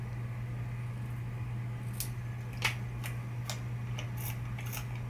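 Scissors trim a piece of cardstock for a layered card frame: about six crisp, close snips scattered across a few seconds over a steady low hum.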